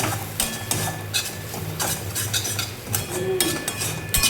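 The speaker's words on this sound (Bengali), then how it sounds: "ভালো করে জিরে গুঁড়ো একটু লবণ দিয়ে মাখিয়ে নেবো ওটাকে" Cumin powder and salt being worked into frying food for a Maggi noodle biryani: repeated scraping and stirring strokes of a utensil in a pan over a soft sizzle, close by, with no voices.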